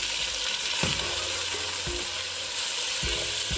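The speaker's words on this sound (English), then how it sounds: "Time to add the beef and cook this on high heat." Pounded beef sautéing over high heat in a pan, with a loud constant sizzle and several dull thumps of a spatula tossing the meat.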